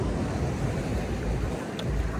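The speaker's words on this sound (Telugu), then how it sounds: "అది అలలు చూడండి ఎంత పెద్ద అలలు వస్తున్నాయో" Loud, steady rush of big sea waves surging off Goa with heavy wind noise buffeting the microphone, a continuous roar with no pauses.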